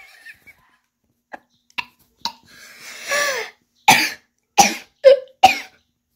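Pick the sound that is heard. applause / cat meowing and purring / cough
cough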